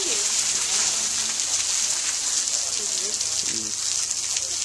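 Rain falls heavily and steadily as a constant, close hiss of drops hitting the ground, with faint voices beneath it at a family vacation spot.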